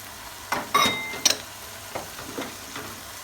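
Stir-fried mie goreng noodles with bean sprouts, spring onion and sliced chili being tossed in a pan: a few separate scraping stirs and soft clatters over a faint sizzle, close and fairly quiet, with no talking.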